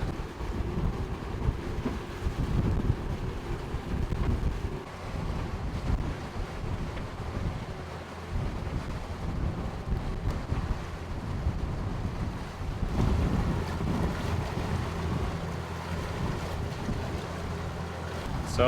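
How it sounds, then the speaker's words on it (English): Strong wind of about 15 knots blows across a boat in a harbour, a continuous heavy rumble and roar buffeting the microphone, with water sloshing beneath and no voices. "So the wind's about 15 knots directly across to the track of the lift"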